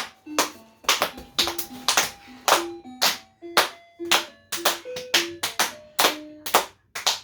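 Hands clap along to a song at home, a steady run of sharp, close claps, some quick doubles, over a faint sung melody with no talking.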